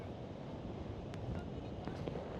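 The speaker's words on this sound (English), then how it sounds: "This is Bondi Beach, and it is very windy." Strong wind buffets the microphone at Bondi Beach, a steady broadband roar running unbroken through the clip with ocean surf likely mixed in.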